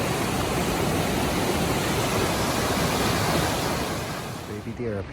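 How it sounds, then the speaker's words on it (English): Steady broadband rush of a waterfall spilling out of trees high on a mountainside along the Pacific Crest Trail near Rae Lakes in the Sierra, heard from a distance as continuous, even roar that eases slightly at the end. "The waterfall coming out of the trees way up there."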